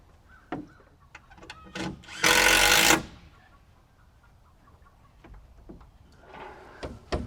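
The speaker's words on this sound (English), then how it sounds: "The boys are working on nailing off these bottoms now." Fascia board bottoms on a milking parlor roof are nailed off, with scattered sharp knocks at irregular intervals and one loud sustained roaring burst in the middle, heard outdoors at moderate distance.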